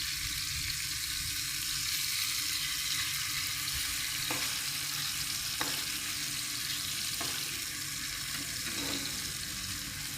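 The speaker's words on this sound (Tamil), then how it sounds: "ஃபிஷ் ஃப்ரை பண்ணுறேன்" Fish frying in a pan, a continuous broad sizzle held at an even level, with a few faint clicks and taps scattered through it and no talking.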